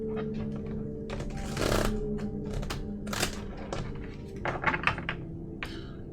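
A deck of playing cards is shuffled close by, a run of quick crisp papery clicks and flutters in bursts, with a few soft thumps.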